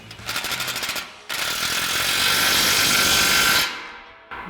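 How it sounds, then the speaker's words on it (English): Impact wrench or power ratchet with a 13 mm socket tightening a ball flare exhaust clamp on a 2019-2024 Silverado/Sierra 1500 dual exhaust: a stuttering burst, then a long loud steady whir that stops abruptly, close up. "Now we'll go ahead and fully tighten down our ball flare clamp"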